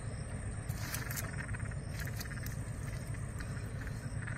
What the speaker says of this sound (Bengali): এরকম শব্দ করে খয়রা মাছগুলো।